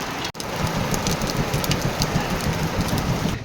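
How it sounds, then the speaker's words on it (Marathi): Heavy rain pouring down at a roadside stop near Kondeshwar temple in Kamshet, a dense, loud, continuous hiss of drops hitting surfaces, with no voices. "म्हणजे जोरात पाऊस सुरू होतोय."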